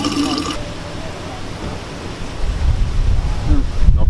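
Sparkling water streaming from a public fountain in Florence, a steady rushing splash under light wind, with a brief voice at the very start and louder handling thumps near the end.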